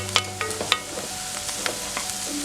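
Onions frying in a pan for an eggplant and potato curry, a steady close sizzle broken by a few sharp clinks and scrapes of a spoon stirring, with no talk.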